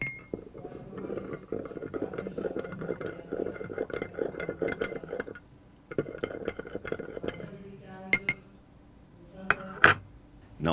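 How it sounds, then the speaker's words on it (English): A spoon stirs salt into a glass of water, rapid clinking and scraping against the glass for several seconds, then a pause and a few sharp separate taps. "Add some salt in 1 glass and stir it well."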